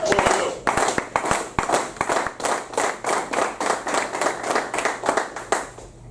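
An audience clapping together in a steady rhythmic beat at a talk with the Pittsburgh Pirates, loud and close, with a voice briefly audible over it.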